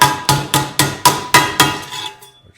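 A hammer strikes a metal steering shaft part for a modified 1937 Lincoln Zephyr, about seven sharp, evenly spaced blows in quick succession, loud and close, with ringing decay that fades after the last hit.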